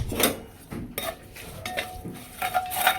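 Asafoetida, turmeric and red chili are mixed into onion and curry leaves frying in oil, heard as close utensil clatter and scraping against the pan in irregular strokes.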